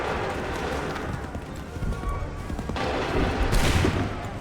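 A musket volley in Assassin's Creed 3 rings out amid steady battlefield din, with a dense burst of gunfire near the end over a loud, continuous backdrop of combat noise.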